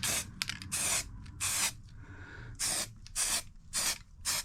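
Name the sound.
spray paint can spraying motorcycle side panels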